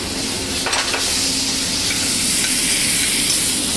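White wine is poured into a hot risotto pan, producing a loud, close, steady sizzle with bubbling hiss and a few faint utensil clicks.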